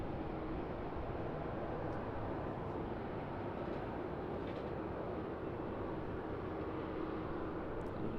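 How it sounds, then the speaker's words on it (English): Qantas Airbus A330 departing from runway 34 left at Sydney Airport, a continuous broad jet roar heard from a distance, steady and unbroken without any talk. "Next departure 34 left. It's Qantas Airbus A330."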